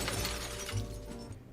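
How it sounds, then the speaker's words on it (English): Glass shatters with a sharp crash and brief tinkling debris as a cat breaks things in a pawn shop in a Nancy Drew video game, a single close impact fading out. "The cat breaks things in the pawn shop, and Nancy doesn't care."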